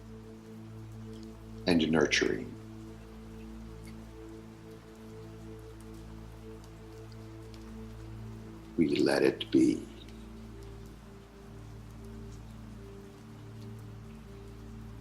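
Steady rain falls in an even, continuous hiss through the whole stretch, while a calm voice speaks briefly twice over it during a meditation session.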